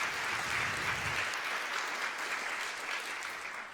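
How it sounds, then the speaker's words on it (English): Audience applause after a live jazz performance, a dense wash of clapping that holds steady for several seconds and then tapers slightly toward the end, with no voices over it. "Thank you for that applause"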